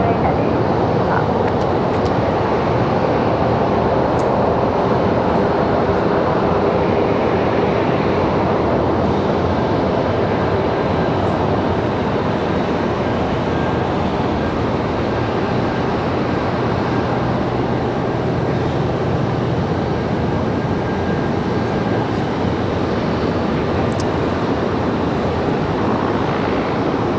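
A Cessna Citation jet spools up and rolls for takeoff on runway 23 left at Raleigh-Durham airport, a steady loud broadband roar sustained for the whole stretch with no voices.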